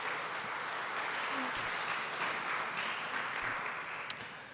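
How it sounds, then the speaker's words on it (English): Applause from an audience at an art museum talk on a Chinese painter, a soft, distant, continuous patter of clapping running steadily throughout. "a round of applause for her"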